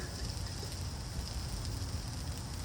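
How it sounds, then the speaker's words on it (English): Steady, loud hiss and crackle of water sizzling and steaming in a hot nonstick skillet from a camping cook set, continuous and close with no talking. "I'm gonna throw just a little bit of water in there."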